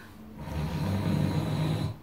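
A person imitates a snore, one rough, rattling inhaled snort lasting about two seconds, close and fairly quiet.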